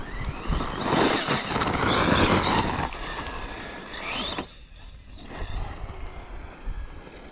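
A Traxxas Sledge 6s RC truck on Proline MX38 belted tires drives close by, its electric motor whining in rising and falling sweeps over gritty tire scrape, with no voices.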